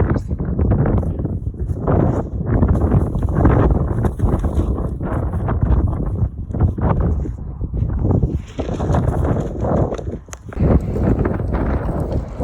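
Strong desert wind buffets the microphone on the road to Riyadh, where a cyclist has packed up his tent. A loud, continuous low roar with gusty surges runs throughout, with a voice talking faintly underneath.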